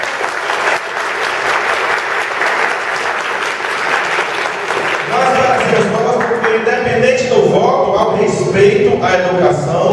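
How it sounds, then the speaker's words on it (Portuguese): Applause in a city council chamber, clapping loud and continuous throughout, with voices and murmuring rising over it in the second half. "Nós merecemos palmas."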